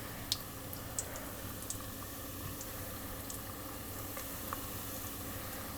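Cut tortilla pieces fry in hot oil with a soft, steady sizzle and bubbling, dotted with faint crackles and pops.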